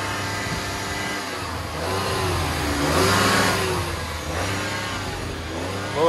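Dodge Caravan engine revving up and easing back in a sustained loud drone that swells in the middle, heard close with no talk over it.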